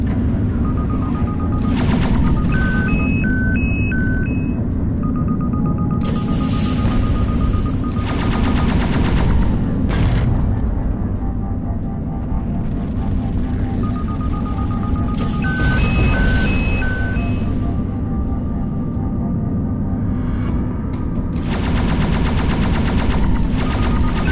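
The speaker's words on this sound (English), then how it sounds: "Gotta be more sparing with the shots." Spaceship cannons firing in the space combat game End Space, loud rapid bursts of shots repeating in clusters over a steady engine hum and electronic tones.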